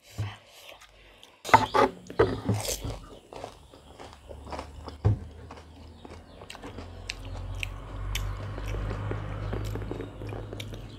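Close, wet chewing and biting of noodles, with irregular crunchy bites and slurps over a low steady hum.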